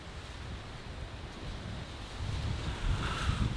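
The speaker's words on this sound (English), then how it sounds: "it is a really, really windy day" Strong wind gusts across an ocean shore on a blustery day, a steady broadband roar buffeting the microphone and swelling louder toward the end, with no voices.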